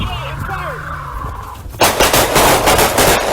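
Gunshots ring out during a police arrest of an armed fleeing felon, a sudden burst of loud rapid shots following tense shouting and radio chatter.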